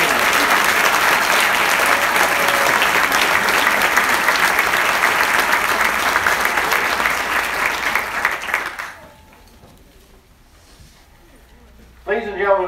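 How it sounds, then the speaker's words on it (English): A large crowd applauds loudly and steadily for several seconds at a Hall of Fame induction ceremony, then the clapping fades out into near silence before a brief noise at the end. "please join me in a final round of applause"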